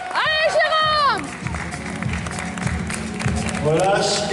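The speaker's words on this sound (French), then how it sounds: "Applaudissez-moi ça." A crowd at a Musclemania bodybuilding competition in Paris claps and cheers steadily throughout, while a loud voice shouts over the noise at the start and again near the end.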